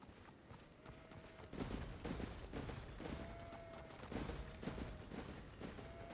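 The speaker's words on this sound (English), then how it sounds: "Also, hello, horse. Are you just running away?" Horse clip-clop in Elden Ring as a riderless horse runs off: a steady, fairly faint patter of hoofbeats over a low game ambience, with brief tonal chimes.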